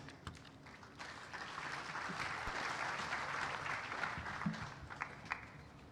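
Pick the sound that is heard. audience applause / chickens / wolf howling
audience applause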